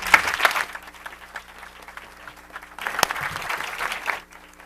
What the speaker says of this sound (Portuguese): Queria pedir uma salva de palmas para eles.